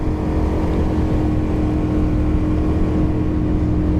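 The 25 outboard motor on a small aluminum Lund boat drones steadily at high throttle on a river, a loud, constant buzzing hum with no breaks and no voices.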